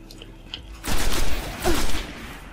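Gunfire in the PS4 video game Destiny: two loud, close bursts of shots about three-quarters of a second apart, standing out sharply from a quiet background.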